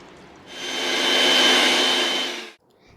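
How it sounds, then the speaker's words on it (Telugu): A kitchen mixer grinder whirs loudly, grinding chutney in one burst of about two seconds that spins up, holds a steady roar and then cuts off. "ఈ లోపు ఇది మిక్సీ పెట్టేద్దాము. మిక్సీ పెట్టేస్తే చట్నీ రెడీ అయిపోతుంది"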